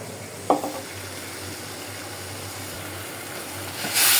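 Dried fish curry frying in a pan with masala, green chillies and crushed garlic, a continuous close sizzle broken by a sharp stirring clatter near the start and a louder hissing surge at the end.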